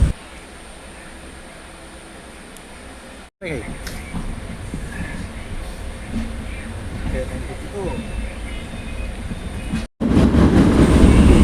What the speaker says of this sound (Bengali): ট্রেন চলে আসলো, উঠে পড়লাম।